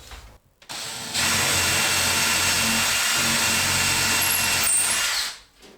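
A power drill pre-drilling a cabinet starts up, whirs at a steady high pitch for several seconds, then winds down and stops, loud and close.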